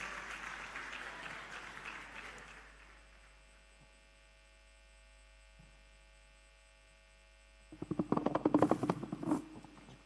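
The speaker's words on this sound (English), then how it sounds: "let's give her a resounding round of applause." Audience applause breaks out at a medical scientific conference and annual general meeting in Enugu, a loud burst of clapping lasting about two seconds near the end, preceded by a low steady hum and faint room sound.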